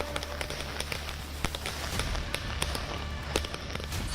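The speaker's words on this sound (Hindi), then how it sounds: "दिवाली के जश्न पर लोगों ने जमकर पटाखे जलाए" Firecrackers bursting on Diwali night around Delhi, Noida and Ghaziabad, a dense spread of sharp cracks and pops scattered irregularly over a constant rumbling background of distant explosions.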